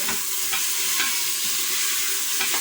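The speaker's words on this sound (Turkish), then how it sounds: "hepsini birden böyle karıştırıyorum. Etlerim bayağı kavruldu." Chunks of meat fry in a pot with a loud, continuous sizzling hiss, stirred with faint scraping close by throughout.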